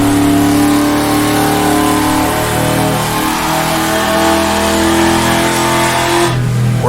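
A Lagonda V12 race car engine in the rFactor2 racing game roars loudly and continuously at high revs under load, its pitch rising and falling slightly before a shift at the end.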